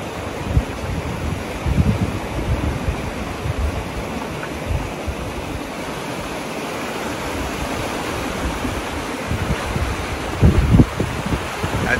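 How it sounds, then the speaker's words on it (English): High water rushes down the Santa Ynez River near a bridge, a loud, continuous broadband roar of flowing current with some wind buffeting the microphone and no talking. "There is a lot of water coming down this river."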